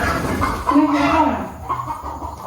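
Chickens cluck in a rural Thai village yard, with short uneven calls close by while people talk over them.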